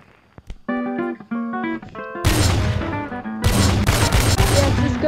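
A P90 submachine gun fires in the game Blade and Sorcery. Choppy tonal electronic notes come first, then two long, loud bursts of rapid dense gunfire, with no talking.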